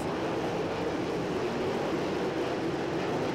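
World of Outlaws sprint cars with Garrity engines race on a dirt track, a dense, loud, continuous engine roar filling the air without a break.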